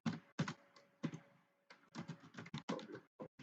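Code being typed on a computer keyboard during a programming tutorial, heard as quiet clustered bursts of key clicks with short pauses between them, close and fairly faint, with no talking.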